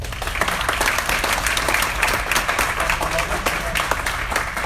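A big round of applause from a community audience at a startup pitch event, dense steady clapping filling the whole stretch, fairly close and loud, with no other sound standing out.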